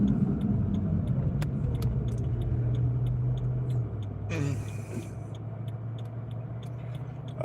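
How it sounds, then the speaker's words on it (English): A car rolls along the road, heard from inside as a steady low engine and road rumble with faint ticking and a brief whoosh passing midway. "We're driving in our rich man's car"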